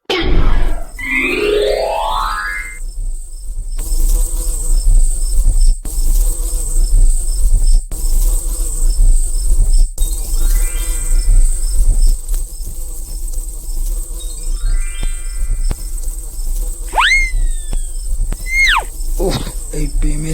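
Cartoon bees buzz busily around a beehive high in a tree, a steady insect drone with rising and falling whirs, cartoonish sliding effects and boings, fairly loud throughout.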